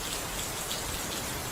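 Steady rain falls in an even, dense hiss that fills the whole moment with no break, and no voices or other sounds come through.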